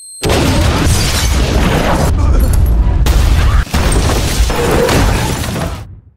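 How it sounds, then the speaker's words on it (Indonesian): A loud explosion erupts and rumbles on with shattering debris and crackling bursts, briefly dipping before a second blast, then fading out. "selamat dari ledakan itu"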